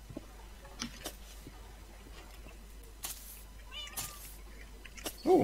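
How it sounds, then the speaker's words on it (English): A cat meows several times in a modded Minecraft survival game, short, faint mews spread across a quiet stretch, with a louder sound near the end. "Oh, hey, a cat."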